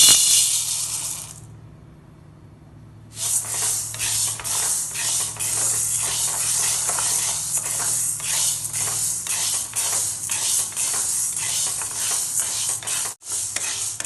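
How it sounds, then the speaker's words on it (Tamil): Green gram dry roasting in a hot pan: a steady, close rattling and scraping of the dry grains being stirred, starting after a short quiet pause and continuing throughout without talk. "பாசி பயிரை வறுக்கிறதுக்கு அடுப்பு ஆன் பண்ணிவிட்டு பாத்திரம் ஹீட் ஆகட்டும்."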